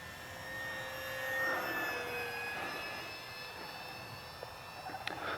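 An Arrows P-51 Mustang 850mm RC plane flies an inverted pass, its electric motor whining steadily with a rising then fading pitch as it sweeps by at a moderate distance, alone with no talk.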